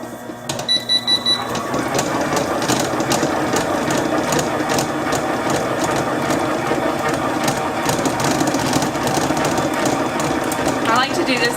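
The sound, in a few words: stand mixer creaming butter, brown sugar and white sugar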